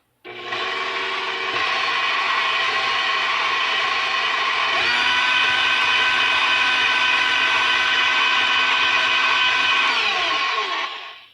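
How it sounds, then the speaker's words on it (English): Electric mixer whirring steadily through cookie batter with vanilla, a loud continuous motor drone after a short start-up, with a slight shift in pitch midway and winding down at the end. "And I put it in the mixer,"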